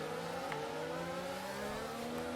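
F1 race cars in F1 2022 pulling away at the start of the Bahrain race, a steady layered whine of engines rising slightly in pitch, dense and continuous with several cars close together.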